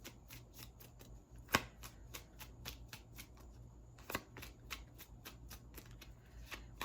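Tarot cards being shuffled at close range, a quiet, steady run of crisp flicks and riffles with a couple of louder snaps along the way and no talking.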